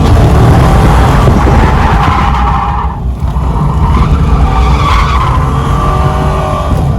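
A C6 Corvette drifting, its tires skidding and squealing in a loud, sustained screech over the roaring engine, close and unbroken throughout with no voices.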